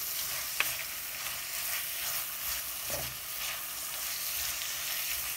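Onions sauté quietly in a heavy-bottomed pan, giving a soft, steady sizzle with a couple of faint utensil clicks and no voices.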